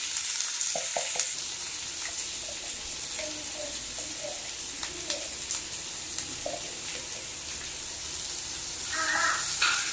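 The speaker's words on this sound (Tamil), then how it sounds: "வெங்காயத்தை நல்லா இந்த பட்டர்லேயே நான் நல்லா வதக்கிக்கிறேன்." Onions sizzle steadily in butter in a hot pan, with soft scraping stirs and occasional clinks, a continuous close crackle throughout.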